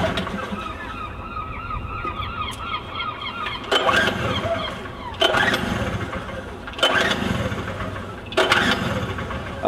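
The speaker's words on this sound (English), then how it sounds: "He's about to start the generator so that we can have a go at fulfilling this test." Four rough, bursting pulls on the starter of a two-stroke generator that does not catch, spaced a second or two apart, with geese honking steadily in the background.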